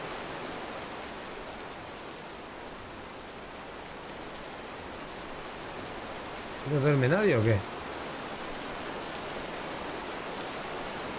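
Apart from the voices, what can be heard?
rain in This Land Is My Land video game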